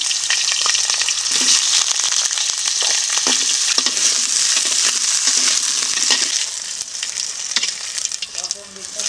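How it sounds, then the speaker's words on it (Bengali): Potatoes frying in oil used earlier for frying rohu fish, a loud, close, continuous sizzle with repeated spatula scrapes and clinks, easing slightly near the end, with no talk. "এই তেলে আলুগুলোকেও ভেজে নেব"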